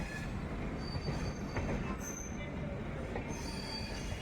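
Steady low rumble of the Janashatabdi Express rolling along the rails, heard from inside a carriage, with faint wheel squeals and rattling throughout.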